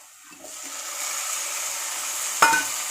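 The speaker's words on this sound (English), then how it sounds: "Now we are going to add tomato" Tomato drops into a pan of golden frying onions and gets stirred, a steady bright sizzle running throughout with a sudden louder burst of crackle as it hits the hot oil.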